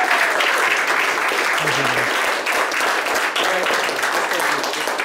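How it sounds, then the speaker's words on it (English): Sustained applause from an audience at a talk with a Bitcoin pioneer, a steady, dense wash of clapping lasting throughout, fairly loud and close, with a few faint voices mixed in. "Let's give Charlie a round of applause"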